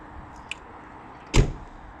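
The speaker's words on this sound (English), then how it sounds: "Look at the sound of those doors." A single solid Mercedes 190E 2.6 car door thud shuts with a short reverberant tail, preceded by a faint click; otherwise a quiet background.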